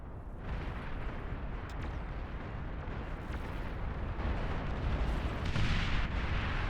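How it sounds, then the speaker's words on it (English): Heavy rumbling blast from the real-time strategy game Beyond All Reason, a steady roaring wash of explosion noise that swells slightly louder toward the end, with no talking. "I heard a big explosion."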